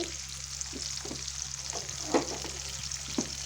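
Chopped vegetables with ginger, garlic and onion stir-fried in a pan give off a steady sizzle, with occasional scrape and stir clatters, including a sharper one near the middle, close and alone without talk.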